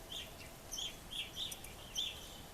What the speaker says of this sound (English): Chickadees, jays, and woodpeckers all make lots of noise to let all the birds in the neighborhood know an owl is